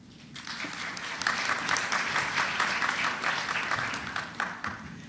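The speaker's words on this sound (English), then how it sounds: "Ladies and gentlemen, keep your applause going as we thank our distinguished panel" A crowd applauds the opening panel at a Latin American event on ending gender-based violence, a steady, moderately distant rush of many people clapping that builds slightly and holds throughout.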